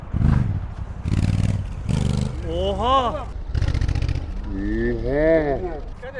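A Honda NT1100 motorcycle engine revs up and falls back twice, close by, between excited exclamations and talk.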